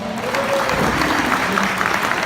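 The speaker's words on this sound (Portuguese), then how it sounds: "O pessoal dá uma salva de palmas" Audience applause after a sales talk, steady dense clapping from a crowd for a couple of seconds, with a faint voice or tone running underneath.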